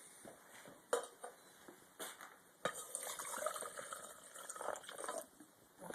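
Water pours into a pan of clay earth plaster mix, with splashing, dripping and clinks against the pan, fairly close and a few sharp knocks in between.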